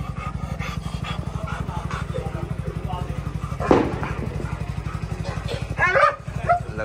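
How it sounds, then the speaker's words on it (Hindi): A village dog gives a few barks over a steady chugging engine, while a person talks nearby. "ये हमारा गंडक है, ये सारे दिन भोगता रहता है"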